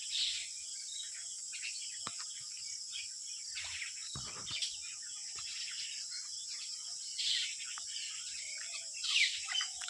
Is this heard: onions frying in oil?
no